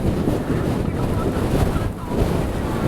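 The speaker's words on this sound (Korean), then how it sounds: "바람 많이 불고" Strong wind roars and buffets against the microphone while snowboarding down a slope in heavy powder snow at Phoenix Park, a loud continuous rush throughout.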